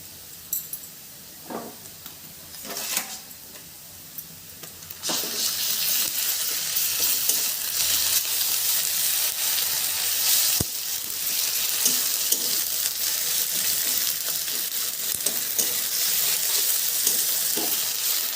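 Onions and ginger-garlic paste fry in a pan for a spinach and prawn curry. A loud, steady sizzle with stirring starts a few seconds in and continues after a quieter opening.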